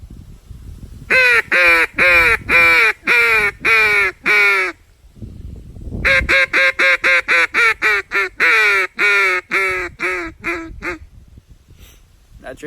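A duck call blows a loud hail call, a long run of rapid, raspy quacks in two extended sequences that trail off into softer notes at the end, close and alone.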